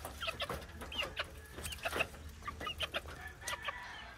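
Chickens in battery cages under banana trees cluck in short scattered bursts against a steady low hum, moderately distant and fairly quiet.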